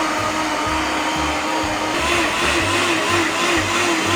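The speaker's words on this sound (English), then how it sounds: "Okay, candlenuts, blend, alright? A handful of this. When you blend, you need to pulse it." A powerful kitchen blender grinding lemongrass and candlenuts into laksa paste, a loud continuous whirring roar with a low pulsing throb underneath, no voices.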